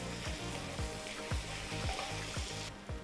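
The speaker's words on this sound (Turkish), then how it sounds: "Tabii ki salçayı kavurmak da çok önemli." Tomato paste and grated tomato sizzle and fry in a pan, a steady crackling hiss punctuated by regular scraping stirs, close and alone without any talk.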